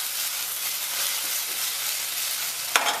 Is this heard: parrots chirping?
no